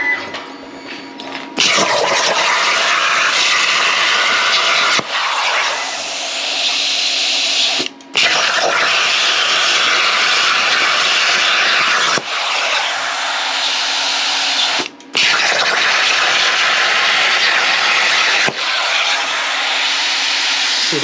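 Bestarc BTC500XP plasma cutter torch firing on a CNC table: loud, hissing roar in sustained bursts of a few seconds each, broken by short sharp gaps as the arc stops and restarts.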